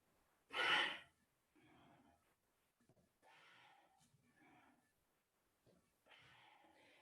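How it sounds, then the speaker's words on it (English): Pranayama breathing through the nostrils, a bastrika-like practice: one sharp, loud nasal inhale, then several softer, airy exhales and inhales at an unhurried rhythm, close and breathy with quiet gaps between. "Still breathing from the nostril."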